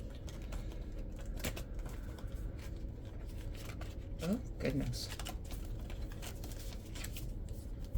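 Oracle cards being shuffled during a tarot reading, a soft papery riffling and sliding that runs steadily under a woman's speech, with a brief brighter flurry partway through.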